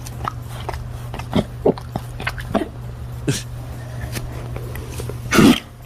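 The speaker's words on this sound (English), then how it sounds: "it's like that dog coughing" A dog coughs and hacks in a few short, irregular bursts over a steady low hum indoors, with a louder rasping fit near the end.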